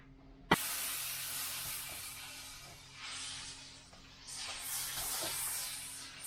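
Butter melting and sizzling in a frying pan with onions while burger buns toast, a steady broadband hiss that starts abruptly with a sharp click and swells in waves, close and fairly quiet.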